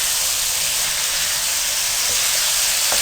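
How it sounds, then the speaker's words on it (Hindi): Chana dal roasting in a pan makes a dense, steady hiss with a bright steamy edge, unchanging and close, with a couple of faint clicks near the end and no talk. "अब आप दाल को भूनें,"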